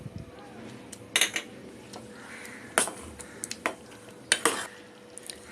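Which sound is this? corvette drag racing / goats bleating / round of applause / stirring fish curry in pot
stirring fish curry in pot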